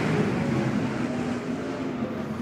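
Sprint cars roar together at a dirt speedway as a heat race gets underway, their engines blending into a steady, fairly distant drone with no voices.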